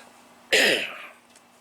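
A single harsh cough or throat-clearing burst from a person, sudden and close, fading over about half a second into quiet.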